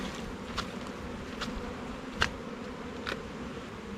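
Honey bees swarm around an opened hive at a Jamaican apiary, their steady buzzing droning throughout with a few louder passes as individual bees fly close by.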